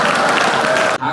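Pilgrims clap together for Thakur ji at a Braj temple in Barsana or Nandgaon, a dense, steady burst of applause that stops abruptly near the end.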